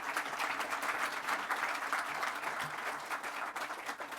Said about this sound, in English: Another round of applause to all our speakers, please, ladies and gentlemen.